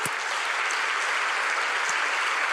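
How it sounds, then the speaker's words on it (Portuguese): A church congregation applauding during a worship service, a dense, steady wash of many hands clapping at once, even and continuous throughout without voices. "Vamos aplaudir o nosso Deus."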